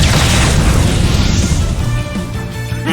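A fire spell attack in Octopath Traveler II erupts as a loud, dense, roaring burst of flame and impact, sustained and close, slowly settling with a lingering rumble.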